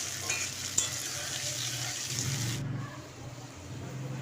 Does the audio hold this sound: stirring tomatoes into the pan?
yes